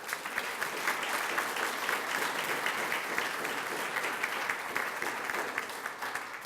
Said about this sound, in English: Round of applause for our choir in Sheldon High School.